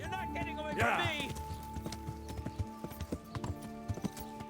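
Horse hooves in the medieval game Kingdom Come: Deliverance, a run of hard, evenly spaced clip-clop strikes with a brief neigh near the start, while someone briefly shouts over them.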